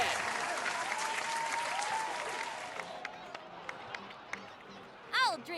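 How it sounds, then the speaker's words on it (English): Crowd applause in the video game Genshin Impact, set in Natlan: a loud, even burst of many hands clapping that fades after about three seconds, followed by scattered clicks and a short whooshing game effect near the end. "So, please give another round of applause for them."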